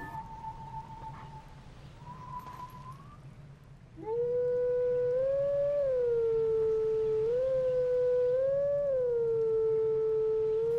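In The Legend of Zelda: Twilight Princess, a wolf howls at a Howling Stone. After a faint tone, a loud sustained howl rises and falls in long wavering phrases for several seconds.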